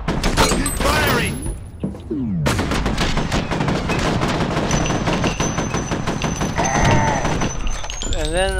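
Enemy gunfire in the shooter F.E.A.R., loud, sustained bursts of rapid shots rattling continuously amid clanking mechanical noise and game effects, with a short swooshing break early on.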